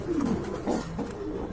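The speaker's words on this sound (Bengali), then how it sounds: "জসিম ভাই, আমি দেখছিলাম যদি চলে যাচ্ছে কবুতরটা।" Domestic pigeon cooing close by in a bird-selling setting, a low rolling coo repeated two or three times over steady background noise.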